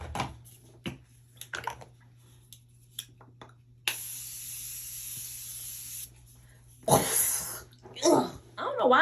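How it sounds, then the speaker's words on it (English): Face mist sprays onto a face in one steady hiss lasting about two seconds, followed by a shorter second burst, close and fairly loud. Quiet mouth sounds and breaths come before and after. "And I'm gonna spray my face."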